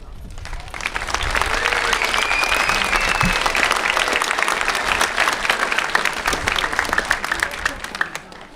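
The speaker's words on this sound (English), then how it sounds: "We have applause." Sustained loud applause from a large crowd fills a school graduation ceremony, a dense, even wash of clapping that runs unbroken for several seconds.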